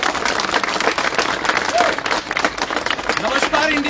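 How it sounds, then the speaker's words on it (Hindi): Audience applause at an Audi A4 car delivery ceremony: steady, dense clapping from a nearby crowd filling the whole stretch, with no pause, and a faint whistle-like tone rising briefly through it. "आपकी तालियां जोरदार होनी चाहिए।"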